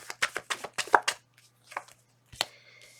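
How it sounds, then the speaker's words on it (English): Tarot cards are shuffled in a quick series of crisp riffling taps, followed by a pause and a couple of softer card slaps, nearby and quiet. "One more shuffle."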